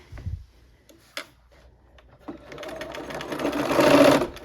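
A sewing machine stitches a quarter-inch quilt seam for a window pane block, starting with faint scattered clicks and handling noise, then running steadily and growing louder toward the end.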